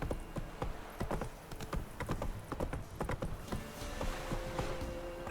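Hooves of the horse Roach in the video game The Witcher 3, a steady rhythmic clip-clop of trotting at close range, with faint game ambience underneath.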